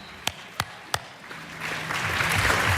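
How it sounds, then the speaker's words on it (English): An audience at an animal rights panel discussion welcomes a speaker: three sharp, isolated claps ring out first, then fuller applause swells and holds steady to the end. "Please give a huge round of applause for a very beautiful and dear friend of mine."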